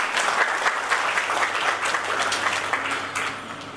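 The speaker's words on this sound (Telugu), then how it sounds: "చక్కటి డ్యాన్స్ చేసింది కాబట్టి వన్స్ అగైన్ క్లాప్స్." Audience applause rings out after a dance performance at a Karthika Pournami celebration in Khammam, a dense, steady patter of many hands clapping that tapers slightly near the end.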